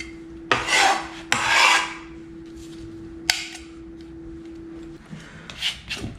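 A lemon is rubbed against a grater for zest, giving a few short, close rasping strokes with brief pauses between them, followed by light scraping at the end.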